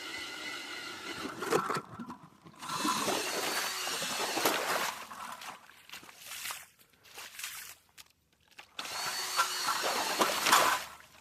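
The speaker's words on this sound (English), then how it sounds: "This is just a little Craftsman 20-volt drill." Bursts of whining drilling from a Craftsman 20-volt cordless drill boring through lake ice come and go in several stretches, grinding loudly with short pauses between them and some scraping and shuffling in the gaps.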